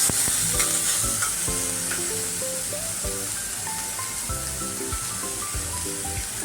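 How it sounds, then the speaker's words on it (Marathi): Green chili sizzles in hot oil in a pan, a loud, steady frying hiss with occasional stirring scrapes, while background music plays underneath. "म्हणून ती पण तेलावर परतून घ्या"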